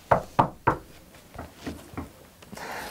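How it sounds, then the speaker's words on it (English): Loud knocking on a door: three sharp, evenly spaced raps, then a quieter run of three or four softer knocks, close and dry with no voices. "there was a loud knock at the door."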